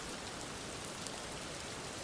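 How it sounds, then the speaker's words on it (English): Steady rain ambience plays as quiet background during a coding session, a soft, even hiss of falling drops with no talk or other sounds. "You like the rain sound?"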